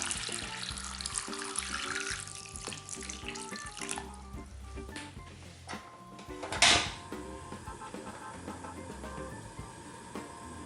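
Water runs from a tap to fill a deep pan of chestnuts in a kitchen, a steady close rushing stream with a brief clunk partway through as the pan shifts.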